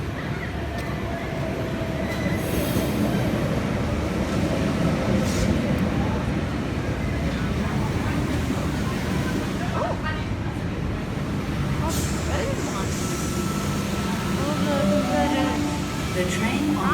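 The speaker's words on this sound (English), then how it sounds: "V-set arriving into Parramatta. Stand clear. It's coming quite fast." A Sydney Trains V-set double-deck train rushes fast into Parramatta station with a loud, steady rumble of wheels and rail noise throughout, plus faint squeals and clatter. Voices talk over it on the platform.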